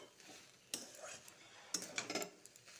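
Curry of banana flower being stirred after ghee is added, a spoon scraping and clinking against the pan in a few sharp bursts over a faint sizzle.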